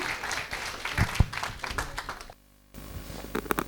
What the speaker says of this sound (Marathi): जोरदार टाळ्या होऊन जाते डॉक्टर अजित भागवत सर यांच्यासाठी